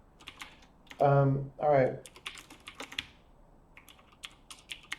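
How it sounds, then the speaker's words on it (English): Rapid clicking of computer keyboard typing during a programming session, scattered taps before and after a short spoken phrase from a nearby voice. "as I'm typing all this"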